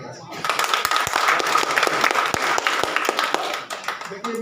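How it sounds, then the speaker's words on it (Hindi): Audience applause at a literary gathering marking International Language Day, a dense burst of many hands clapping that continues steadily and fairly loud for several seconds. "इसके लिए आप एक बार ताली बजा सकते।"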